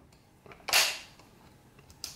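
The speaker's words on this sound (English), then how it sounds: "Put our optics back on there" A single sharp metallic click and clack rings out as a rifle optic is seated back onto a CSA VZ58 rifle, followed by faint small handling taps.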